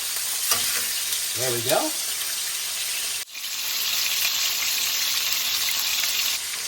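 Pork chops sizzle loudly and steadily in a hot pan, a continuous close frying hiss that dips for a moment partway through, while a brief voice speaks over it early on.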